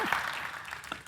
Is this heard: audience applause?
yes